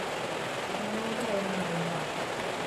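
Steady rain falls outside in a constant, dense hiss with no breaks, moderately loud and close, while a faint voice murmurs underneath.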